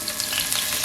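Potatoes frying in a large amount of oil in a pan over medium heat, a steady close sizzle and crackle with no talking.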